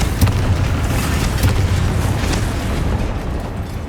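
A Confringo spell explosion in Hogwarts Legacy booms loudly up close, a sustained rumbling blast with a few sharp pops inside it.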